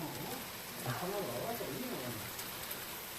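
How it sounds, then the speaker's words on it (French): Heavy rain falls as a steady, even hiss of drops, with a voice faintly audible beneath it. "Grosse pluie."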